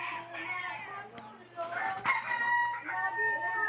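Young Rhode Island Red and Black Australorp chickens, nearly two months old, cheep and cluck in a backyard free-range pen, with a rooster-like crow partway through and a low steady hum behind.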